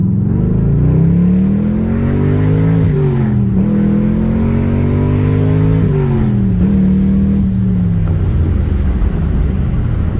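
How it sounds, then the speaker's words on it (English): A 2006 Pontiac GTO with a Tick Performance clutch master cylinder accelerates hard on a street, its engine rising in pitch and dropping sharply with each quick gear shift across several loud, close pulls. "let's do a slightly faster shifting"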